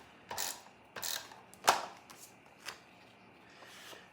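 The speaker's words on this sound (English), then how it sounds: "I need to replace my trimmer blade." A paper trimmer blade with a jagged, worn edge slices through paper in a few sharp, separate cutting strokes, fairly quiet and close, with no talking.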